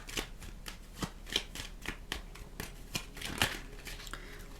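Tarot cards are shuffled by hand in a quiet room, giving a steady run of crisp riffling and slapping bursts at close range with no talking.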